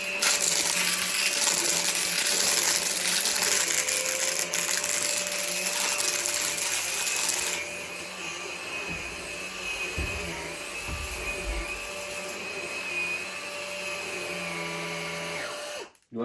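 Henry Quick cordless vacuum cleaner running over a floor, a loud whining motor with a steady high tone that drops in pitch and level partway through, then cuts off abruptly at the end.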